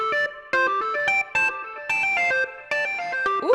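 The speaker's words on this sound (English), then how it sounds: "let's maybe go for a modulated delay, something that will sound kind of weird" Ableton's Analog Collapse modulated delay preset applied to a beat, giving choppy, warbling synth chords in bursts with smeared, wobbly echo tails, loud and close with no voices.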